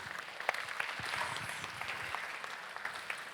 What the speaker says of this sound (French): Je pense qu'on peut vous applaudir vraiment.